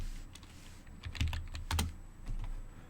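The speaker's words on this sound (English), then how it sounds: "So we type it again." Soft keystrokes tap on a computer keyboard in a quiet room, a short irregular run of clicks with a few heavier thumps, faint and close.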